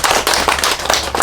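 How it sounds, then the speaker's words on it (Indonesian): Dense, continuous applause from an audience at a farm talk about vanilla growing in Bali, with sharp overlapping claps filling the whole short stretch at close, loud level and no talk. "Jadi tepuk tangan untuk kita sekali lagi."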